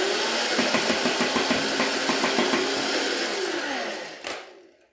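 A modded Nerf Stryfe-style blaster fires a burst of 12 X-Shot darts: a loud, close motor whir carries a fast, even run of rhythmic thumps, then spins down and cuts off abruptly.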